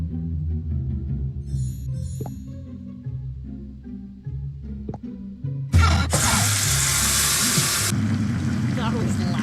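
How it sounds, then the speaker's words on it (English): Water gushes loudly from a tap in the Nancy Drew: Dossier – Lights, Camera, Curses game, a sudden broad splash of about two seconds followed by softer trickling, after quiet background music and faint speech. "Splash some hot water on your face to help you remember"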